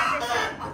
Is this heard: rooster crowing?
yes